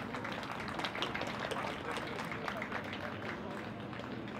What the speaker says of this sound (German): Gebt euch einmal selbst einen Applaus